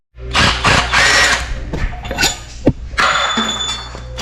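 Impact wrench loosening the head bolts on an LS engine during an RX8 engine swap, short loud rattling bursts with metallic clinks and a thunk between them, close up, no talking.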